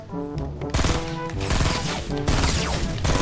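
Loud rapid gunfire from Fortnite, dense bursts of shots crashing over a tonal game soundtrack, with the firing thickening after the first second.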